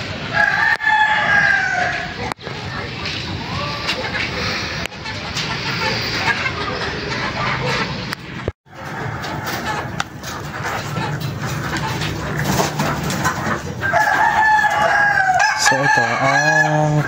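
Gamecock roosters, Boston Roundhead and Allen Roundhead breeds kept in a rooftop backyard breeding pen, crow loudly and repeatedly, with clucking and other fowl noise filling the background throughout.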